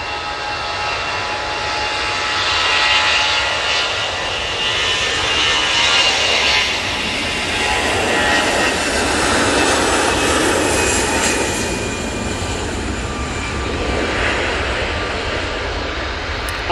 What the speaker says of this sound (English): Off to Istanbul with that A320-200.